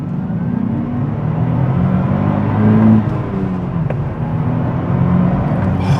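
A 2025 Nissan Z Sport accelerates hard in second gear, its engine a loud, steady rising roar heard up close from the cabin, with no talking.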